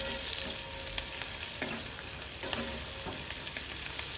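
Green chillies roast in a hot pan for dal batti, giving a steady, even sizzle with a few faint stirring ticks. The sound is close and moderate, and no one talks.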